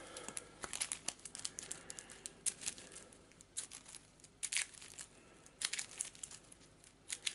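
Mage Knight board game cards being shuffled and riffled, a steady run of crisp crinkling and papery snaps with brief louder bursts, close and fairly quiet, no talking.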